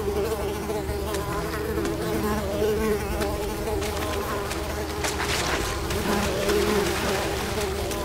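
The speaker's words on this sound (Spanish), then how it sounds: "Estos mosquitos, en serio." Mosquitoes buzz continuously through a level of the video game Unravel, a dense, steady insect whine layered over game music and ambience, loud and unbroken from start to finish.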